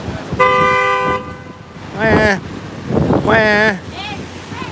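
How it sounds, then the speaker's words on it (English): A sustained car horn blares, then voices rise with wavering tones over steady road and wind noise outdoors. "We are onward to the honking of the horns."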